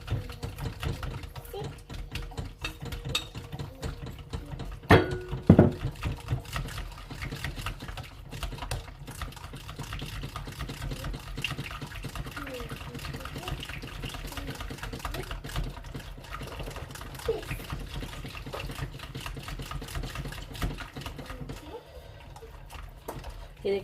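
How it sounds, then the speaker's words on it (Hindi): Homemade mayonnaise whisked by hand in a bowl as oil is added bit by bit, a fast, steady, close ticking of the whisk running nonstop with a few louder clanks. "इसको आपने तकरीबन 10 मिनट तक अच्छी तरह से विस्क करना होता है"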